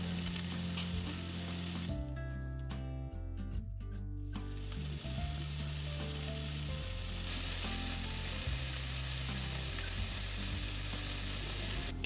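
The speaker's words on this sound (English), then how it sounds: "So you're looking for when the cheese starts to grill and bubble" Cheese grilling and bubbling under an oven grill, a dense steady sizzle and crackle with soft popping throughout, close and continuous, no voices.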